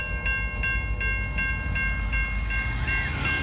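A CN SD40-2 diesel locomotive rolls past with its bell clanging in a steady, quick rhythm over a constant low rumble of the train, close and fairly loud.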